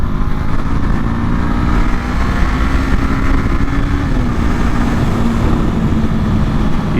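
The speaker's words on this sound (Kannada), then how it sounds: "ಗಾಡಿ ಸೌಂಡ್ ಎಲ್ಲ ಚೆನ್ನಾಗಿ ಕೇಳಿಸ್ತಾ ಇದೆ ಆ್ಯಕ್ಚುಲಿ. ಆ ಟ್ವಿನ್ ಇಂಜಿನ್ ಸಖತ್ತಾಗಿದೆ." A Brixton Crossfire 500 X twin-cylinder motorcycle runs steadily nearby, a continuous low, throaty engine rumble that stays even throughout with no talking.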